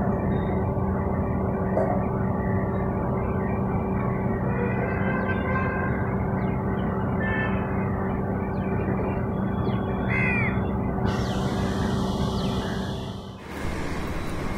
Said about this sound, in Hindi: देख सकते हैं पंछी यहाँ पे किस तरीके से जा रही है